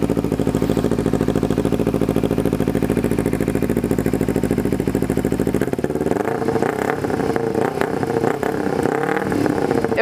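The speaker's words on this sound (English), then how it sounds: "So I'm gonna start that so you guys can hear that a little bit. It's pretty loud" A Kawasaki Ninja 250 fitted with a cheap aftermarket exhaust idles loudly and steadily close by, then its engine note turns rougher and more uneven with revving partway through, with no talking over it.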